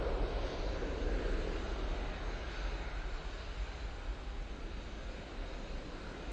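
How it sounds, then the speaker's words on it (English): A Ryanair passenger jet takes off from Manchester Airport bound for Marrakesh, its engines giving a steady, loud broadband roar that swells early and holds throughout, with no voices over it. "That there Ryanair is off to Marrakesh."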